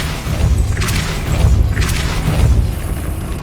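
A Depulso force spell is cast in Hogwarts Legacy, giving a deep booming thump with a whooshing burst, loud and close, followed by a second boom a moment later over a low rumbling game backdrop.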